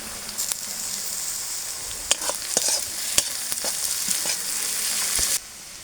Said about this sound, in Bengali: পেঁয়াজ রসুন সুন্দর করে ভেজে নিয়েছি।